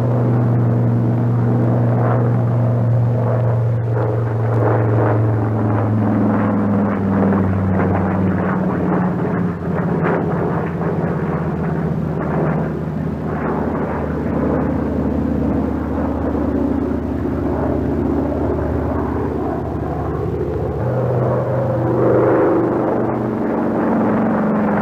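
A Brewster SB2A Buccaneer, a World War II-era dive bomber, flies a loop during aerobatic maneuvers, its engine a steady loud drone and rumble that shifts in pitch throughout, with no voices.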